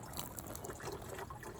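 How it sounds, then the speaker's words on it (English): Water is poured from above into a funnel outdoors, a soft steady trickle and splash, faint and continuous without talk. "Let's try from up top."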